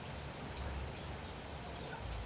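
Steady rain falls continuously, a dense hiss of drops with no voices, even and moderately loud throughout.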